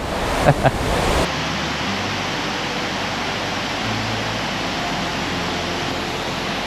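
The turquoise Kuang Si waterfall near Luang Prabang, a loud, steady broadband roar of falling water, with a few brief bumps at the start.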